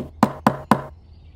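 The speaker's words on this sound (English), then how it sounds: "Suddenly, there was a knock at the door." Three firm, evenly spaced knocks land on a door, close and loud, followed by quiet.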